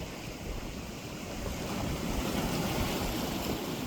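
Sea waves wash in against a harbour's stone wall, a loud broadband roar that swells slightly midway, mixed with wind buffeting the microphone and no voices.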